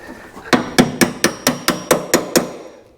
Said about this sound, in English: Now we're just hammering this in.